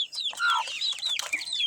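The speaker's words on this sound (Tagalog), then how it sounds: "naman yung panabong na manok." A Hulo-breed fighting rooster clucks and squawks in a quick, busy run of close, fairly loud calls with no talking over it.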